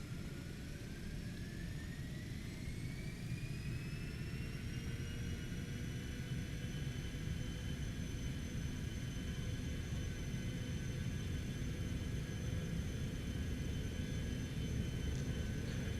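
Cessna Citation X jet engines spool up for takeoff in a flight simulator, a continuous rumbling roar with rising whines that climb in pitch and then hold steady, loud and unbroken throughout.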